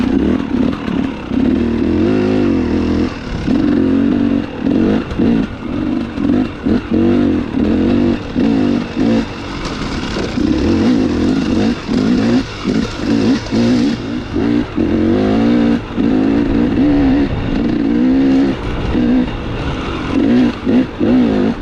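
A dirt bike ridden along Dry Creek in Colorado, its engine loud and close, revving up and backing off in repeated surges with gear changes and rough-trail chatter over a long stretch, no talking.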